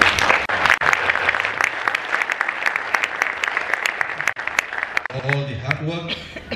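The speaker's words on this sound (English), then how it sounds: "the organizing committee should also be given a round of applause" Audience applauding the organizing committee at an event in Johor Bahru, Malaysia, a dense burst of sharp claps that carries on steadily, then a voice begins talking as the clapping fades.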